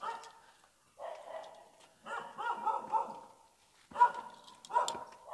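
Several dogs bark in repeated bursts at a Buddhist temple, with loud, close yaps separated by short pauses.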